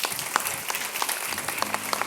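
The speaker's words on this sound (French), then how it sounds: "Encore, est-ce qu'on peut continuer à applaudir pour Monsieur Matadi, s'il vous plaît?" Audience applause at a church-style motivational event, a steady wash of many hands clapping with scattered louder claps, continuous through the short stretch.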